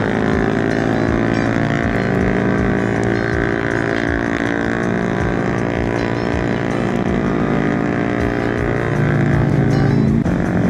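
A motorcycle cruising on a morning road toward Kaliurang with a small group of riders gives a steady, continuous engine drone with wind rush throughout, loud and close, rising slightly near the end.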